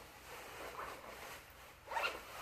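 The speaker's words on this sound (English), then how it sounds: "Pulled the wrong zipper, so I guess that's not ideal. Zipper pull." A zipper on a survival bug-out bag is pulled in two quick rasping strokes, the second brighter and louder, close by with no talking.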